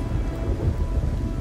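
Dense rain and low rumbling thunder from a thunderstorm in the Kerbal video game, a steady loud wash of rainfall with deep rolling rumble underneath and no voices.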